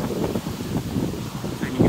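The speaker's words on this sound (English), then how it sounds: "So we have a lot of blustery wind" Strong, gusty wind during a 100 km/h windstorm at an outdoor wind turbine site, a continuous loud buffeting roar with swelling gusts that batters the microphone close up.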